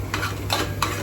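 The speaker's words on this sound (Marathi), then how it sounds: "चांगले खोबऱ्याचं वाटण परतून घेणार आहे." Ground coconut paste for a pomfret fish curry is sautéed in a pan, with three distinct stirring scrapes over a steady low sizzle.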